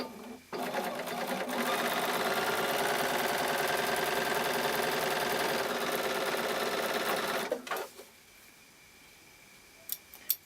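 A sewing machine chain piecing quilt blocks runs in a steady, fast mechanical whir for about seven seconds, close and loud, then stops, leaving quiet handling noises.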